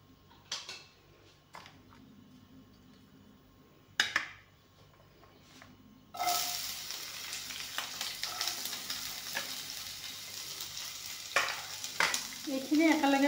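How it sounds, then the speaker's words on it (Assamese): Onion, chilli, ginger and garlic paste frying in refined oil in a wok, a few scattered clinks and taps of a utensil first, then a loud continuous sizzle breaking out halfway through with stirring noises on top. "ৰিফাইনেৰে পিঁয়াজ জলকীয়া আদা নহৰুৰ পেষ্টখিনি ভাজি ল'ম।"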